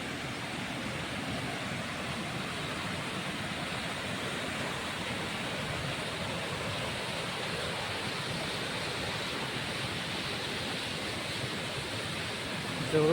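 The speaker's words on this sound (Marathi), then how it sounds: "पाण्याचा आवाज बघा." A perennial waterfall beside the Krishna river pours in a constant, even hiss, close and unbroken for the whole stretch, with no voices over it.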